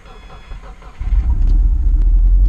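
A Subaru car engine cold starting on E85 fuel in snowy weather: quiet at first, then at about one second a loud, deep low rumble kicks in and holds steady as the engine catches and runs close by.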